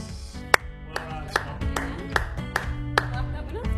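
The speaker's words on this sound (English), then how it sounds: "I think we absolutely clap that winner." Award-night audience at Carlton's 2021 John Nicholls best and fairest presentation claps for a young winner: sharp claps land in an even, steady rhythm over a sustained musical backdrop, moderately loud and without talk.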